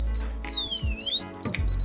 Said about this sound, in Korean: 이제 이걸 이제 심하게 움직이거나 이제 손상이 됐을 때 이제 경보가 울리는 거죠